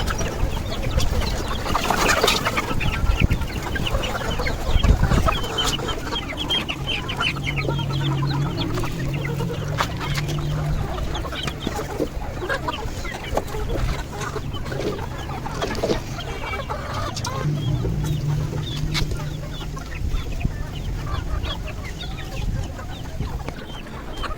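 Chickens cluck and squawk steadily while pecking at hydroponic wheatgrass on a farm, a busy flock with occasional louder calls, close and continuous throughout with no talking.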